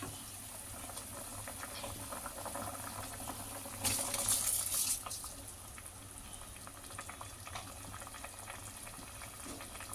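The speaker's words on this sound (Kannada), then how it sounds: "ಇದಕ್ಕೀಗ ನಾವು ತೊಳೆದು ನೆನೆಸಿಟ್ಟಿರೋ ಅಂಥ ಅಕ್ಕಿನ ಸೇರಿಸ್ಕೊಳ್ಳೋಣ" Washed, soaked rice poured into a pot of boiling water for tomato rice, a brief hissing splash over a steady low bubbling simmer, no talking.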